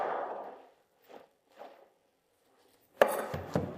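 A knife cutting into a quarter of red cabbage, a few soft separate slicing strokes followed by a sharp crunchy cut, close and clear with no talking.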